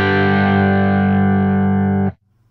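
Electric guitar played through a tube amp and power attenuator set at unity gain: one loud, heavily distorted chord sustains thick and steady for about two seconds, then cuts off abruptly.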